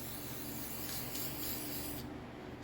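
A cleaning spray hisses onto a stuffed teddy bear in a steady close burst of about two seconds, then cuts off.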